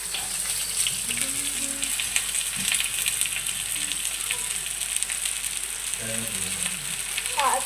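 Peas, potato and cauliflower frying in a pan give a steady, close sizzle and crackle throughout, with a voice speaking briefly now and then.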